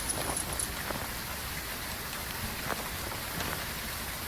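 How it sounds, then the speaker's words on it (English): Steady rain falls outside a 1950s diner in the ghost-hunting game Phasmophobia, a constant close hiss with scattered pattering drops and no talk. "I really like the rain on this map."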